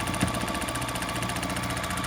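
A sewing machine stitches quilt block pieces at a steady, fast, even rhythm, a close mechanical whir with repetitive needle pulses throughout.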